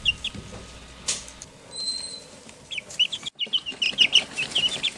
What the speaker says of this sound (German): Das hier im Bild sind unsere Hühner